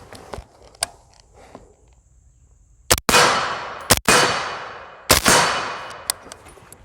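Three suppressed gunshots firing standard ball ammo, each a sharp, fairly muted crack with a short decaying tail, spaced about a second apart, with faint clanks and shuffling between.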